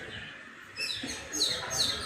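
Birds chirp and tweet near a balcony in St. Lucia, several short bright calls rising over quiet background, moderately close and fairly faint.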